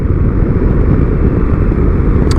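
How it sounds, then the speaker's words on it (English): Motorcycle cruising in fifth gear as the rider rolls on and off the throttle, giving a steady, loud engine drone with wind rush throughout and no talking. "I'm doing all of this just by rolling on and off the gas in fifth gear"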